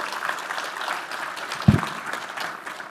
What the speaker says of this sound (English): let's give her a nice round of applause